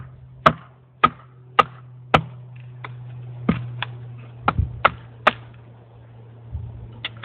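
A knife blade is batoned through a piece of wood to split off a wedge, giving a series of sharp, woody strikes at uneven intervals, close and crisp, over a low steady background hum.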